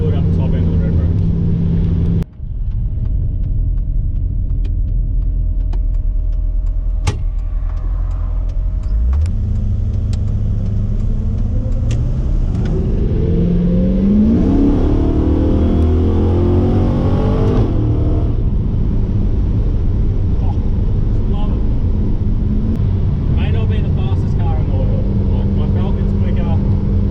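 A Ford XG ute's engine is driven hard to high revs, a loud continuous in-cabin roar that climbs steadily in pitch through the rev range, with someone talking over it at times.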